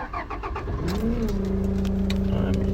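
A 2014 Toyota Hilux 2.5 D-4D diesel pickup engine cranks briefly, then catches and settles into a steady rumbling idle, loud and close.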